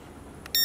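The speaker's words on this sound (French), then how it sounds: "Quand on est au bip long, c'est qu'on est au neutre." A Syma X12S drone remote control gives a short faint electronic blip and then a louder, steady beep. The steady tone signals that the trim is at neutral.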